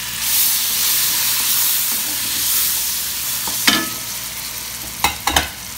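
Spices and tomatoes fry in a pan for an aloo matar tahiri, giving a steady loud sizzle and hiss with a few sharp stirring clatters near the end and no talking.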